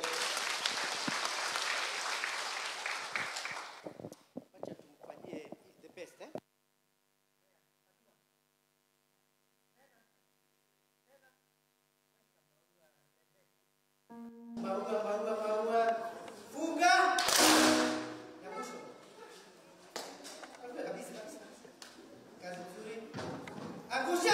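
Crowd applause rises for a few seconds at a public gathering honoring a governor, breaks off into near silence, then returns busier and louder with voices and other activity mixed in.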